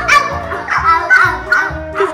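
Children's voices imitate dogs with a series of playful yips and woofs, about five in quick rhythm, mixed with giggles, loud and close.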